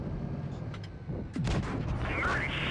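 Tank cannon fire in the World of Tanks Blitz video game, a couple of sharp booming shots with game effects and a rising whine, under faint commentary.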